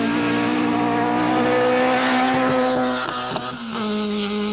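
A rally car at the 2004 Rally of South Africa drives hard past a stricken BMW, its engine roaring loud and close at steady high revs with a harmonic whine, easing slightly near the end.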